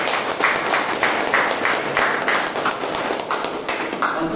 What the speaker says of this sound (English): So please have a big round of applause.